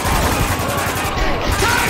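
Sustained machine gun fire in Spec Ops: The Line, a loud, dense, unbroken rattle of rapid shots.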